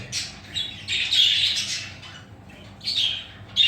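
Japanese finch chicks in the nest make shrill, raspy begging calls in several close bursts with short pauses between them.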